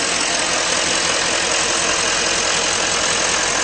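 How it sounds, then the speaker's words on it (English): A 2011 Chevrolet Silverado 3500 pickup engine starts and idles steadily with a low, rough rumble and constant mechanical noise throughout. "Start it up and take a quick look under the hood"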